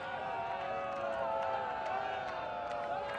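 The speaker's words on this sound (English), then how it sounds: "Pretty partisan pro-Canadian crowd here, not happy with the call." A partisan pro-Canadian crowd at an ultimate frisbee semifinal between the USA and Canada at the 2012 World Championships murmurs and jeers in displeasure, a sustained roar of voices with scattered whistles.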